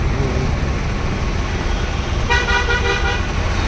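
Busy road traffic with engine rumble and a burst of repeated car horn honks in the latter half, loud and close.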